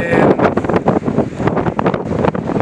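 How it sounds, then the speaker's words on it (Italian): Strong seaside wind at Warrnambool, Australia, buffeting the microphone in loud, irregular gusts and rumbles, close and dominant throughout with possible surf underneath. "Sicuramente sentirete tanto vento da questa parte."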